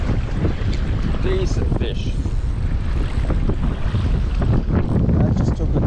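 Strong wind buffets the microphone at Nudgee Beach during lure fishing, a steady roaring gust noise with water splashing beneath, and someone speaks briefly over it.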